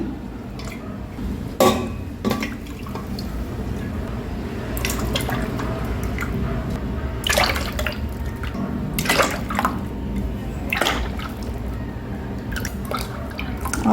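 Oil is poured into a container for homemade aloe vera soap, a continuous liquid trickle with scattered drips and light clinks of the vessel, close and steady throughout.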